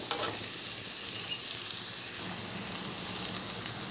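Vegetables for fried rice tossed and stirred in a pan over a high flame, giving a steady loud sizzle with scraping stir noises throughout, no voices.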